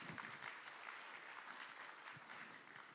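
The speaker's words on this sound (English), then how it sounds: "Can I have a big round of applause, please?" At an Asian-Pacific postal union congress, a large hall audience applauds in a soft, continuous wash of distant clapping, fading slightly near the end.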